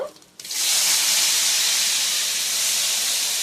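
Ginger garlic paste dropped into hot oil, erupting into a sudden loud, steady hissing sizzle after a short quiet moment, close and continuous to the end.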